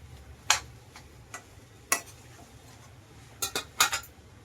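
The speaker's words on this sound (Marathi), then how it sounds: "आता याला चांगला हलवून येऊन घ्या म्हणजे मिक्स करून घेऊया" Spoon scraping and clinking against a pan while stirring a pea and potato filling, a few sharp metallic knocks spaced irregularly over a low background, with a cluster of clinks near the end.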